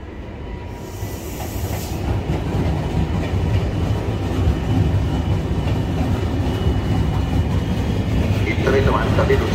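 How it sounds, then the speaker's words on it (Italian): A Trenitalia Frecciarossa high-speed train from Venezia Santa Lucia rolls into platform 14 at Firenze S.M.N. station, its deep rumble and clatter of wheels growing steadily louder and closer after a brief high tone at the start. "Treno in arrivo al binario 14."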